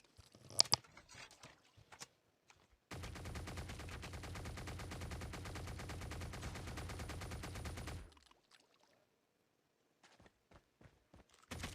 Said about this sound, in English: Now, this is what it sounds like with a suppressor.